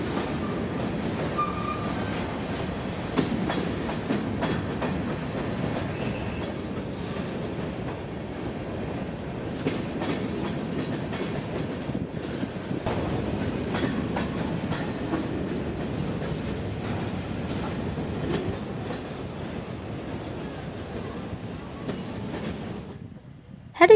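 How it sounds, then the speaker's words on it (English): A long freight train led by a mix of GE and EMD diesel locomotives, including an SD40-2, rolls steadily past, with continuous rail rumble and faint clickety-clack of wheels. It holds an even loudness throughout and fades at the very end. "Quite the nice consist of GE and EMD locomotives."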